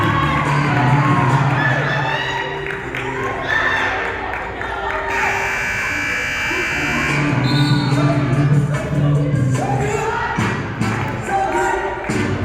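A buzzer sounds at the end of a women's college basketball game between Lamar CC and Clarendon, a steady tone of a few seconds rising out of a loud, continuous crowd roar of cheers and shouts in the gym.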